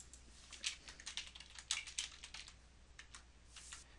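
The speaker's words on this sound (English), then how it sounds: "In the message box, I will type my response." Rapid keystrokes on a computer keyboard while a reply is entered in an online discussion forum, bursts of light clicks with short gaps, close and fairly quiet, no talking.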